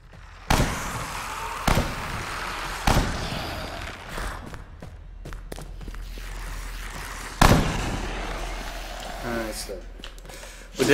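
Gunfire in the zombie shooter Dead Frontier 2: half a dozen sharp, separate shots crack out at uneven intervals over a low background rumble, with a voice talking faintly between them.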